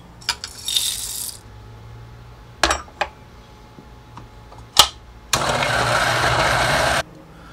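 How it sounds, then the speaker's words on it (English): Coffee beans in a grinder set up for Flair espresso: a few sharp clinks and rattles, then one loud, steady whirring grind lasting under two seconds before it cuts off. "Let's grind some coffee beans and let me show you how to use it."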